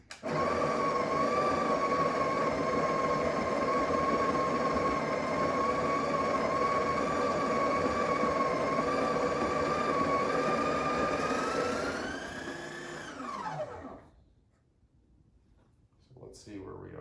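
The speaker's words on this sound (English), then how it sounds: "And then I'll do the grinding." A burr coffee grinder grinds espresso beans into a portafilter for a latte, giving a steady, loud motorized whir for about twelve seconds before it winds down and stops, followed by a brief quiet gap.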